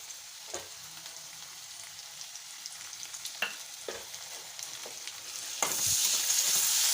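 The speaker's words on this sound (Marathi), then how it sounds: "कांद्याला हलकासा गुलाबी रंग आला की यात टोमॅटो घालायचं आहे" Onions fry in a pan for a bombil masala, with scattered scraping stirs over a soft sizzle until a chopped tomato goes in and the sizzle surges into a loud, steady hiss.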